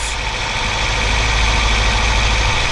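A car engine idles steadily up close, a constant low rumble with a faint vibrating hum and no other sounds.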